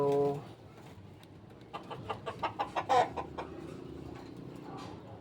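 Gamecock rooster named Whitey, an entry bird for a derby, calling with a quick run of clucks midway, over a busy backdrop of other fowl and a low murmur.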